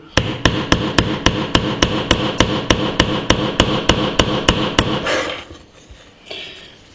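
An Oukitel K6000 smartphone is used as a hammer to drive a nail. About twenty sharp, loud, evenly spaced knocks come in a steady rhythm, then stop, leaving faint handling noise and one softer bump.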